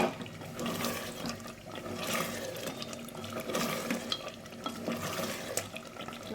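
Duck meat cooks down with garam masala in a village-style bhuna as a spatula stirs and scrapes through the thick mix, giving irregular wet sloshing and scraping over a low sizzle, close and continuous.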